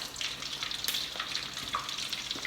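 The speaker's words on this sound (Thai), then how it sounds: "เคี่ยวให้เดือดเลย" A fish sauce and sugar glaze simmers and bubbles in a pan for fried snakehead fish, a steady bright crackling sizzle heard close up with no talking.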